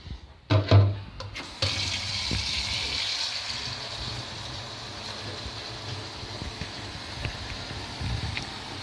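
Water running from a tap or being poured while spinach and potato rolled börek is made at home, a steady splashing wash that starts after a short burst near the start and continues evenly throughout.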